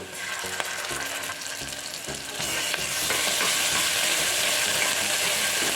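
Onions with ginger garlic paste frying steadily in a pan, a continuous close sizzle that swells louder partway through, with occasional clinks of a stirring spoon.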